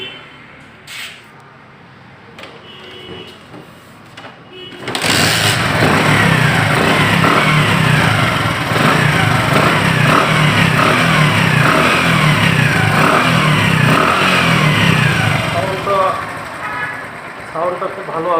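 A Bajaj Platina 100cc motorcycle engine starts up after a quiet moment and then runs loud and close, revving steadily and roughly for over ten seconds, with a person talking underneath.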